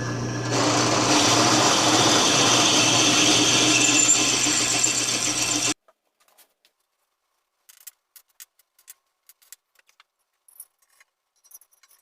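A drill bores a hole in the tailstock of a Powermatic 90 wood lathe, a loud steady whirring grind that stops abruptly, followed by faint scattered clicks and taps in near silence.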